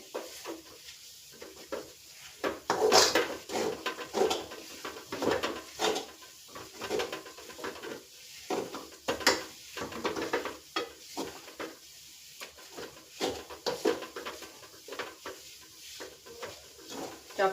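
Dates being stirred in hot ghee in a pan for khajur pak, giving a steady low sizzle under repeated scraping and clinking strokes of a spoon against the pan, close and moderately quiet.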